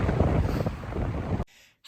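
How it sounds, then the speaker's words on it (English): Strong gusts of wind buffet an outdoor microphone on a sunny morning, a loud continuous roar that cuts off abruptly near the end. "it's extremely windy. So I don't know how much of this you can actually hear."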